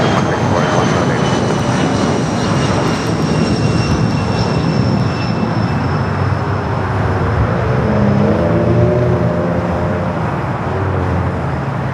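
An airliner takes off from runway 25 right at LAX with a loud, steady jet engine roar that fills the whole stretch, a broad rushing rumble carrying faint whining tones.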